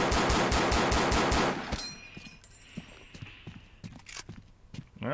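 Automatic weapon fire in a video game: a dense, rapid burst of loud shots for about a second and a half, then a few scattered softer shots and clicks.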